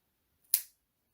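A single sharp snip of scissors cutting through the hard middle section of a plastic face shield head band, close and clean with a quick decay, alone in silence.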